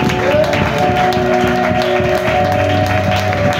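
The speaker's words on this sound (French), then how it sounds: "Nous pouvons honorer la parole du Seigneur par des acclamations" Congregation applause and acclamations at a thanksgiving worship service: dense, steady clapping from a crowd fills the whole stretch, mixed with sustained musical tones and voices.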